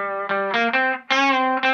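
Guitar through a vintage Bixonic Expandora distortion pedal with the guitar volume turned down, a few gritty sustained chords changing in quick succession, close and clear.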